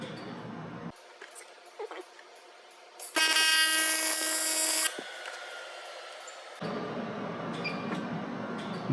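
TIG tack welds on a Model T driveshaft: a loud, steady high buzzing arc lasting about two seconds stands out between quieter shop noise and hum, with a few brief softer bursts around it.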